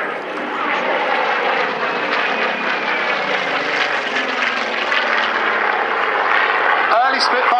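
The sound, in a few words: Supermarine Spitfire aircraft flying at airshow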